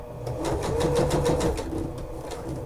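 A heavy-duty sewing machine stitches piping into a seam, running as a loud, fast mechanical whir with rapid rhythmic clatter for a couple of seconds before easing off.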